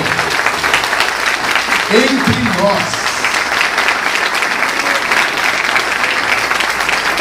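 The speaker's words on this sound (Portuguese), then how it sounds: "Então vamos aplaudir a presença do Senhor" A church congregation applauds together during a Portuguese-language worship talk, a loud, continuous clapping that runs the whole way through, with a voice speaking briefly over it near the start.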